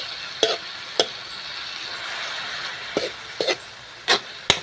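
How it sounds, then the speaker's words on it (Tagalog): Roasted eggplant stir-fry is stirred in a pan with a utensil, producing a handful of sharp close scrapes and clinks spaced irregularly over a faint sizzling background. "Haluin natin ng kaunti."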